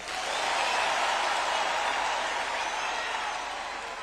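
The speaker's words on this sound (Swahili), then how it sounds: "Pigeni makofi rais." Village elders applauding the president at a State House gathering, a dense, steady wash of clapping that holds at an even loudness for the whole stretch with no voices standing out.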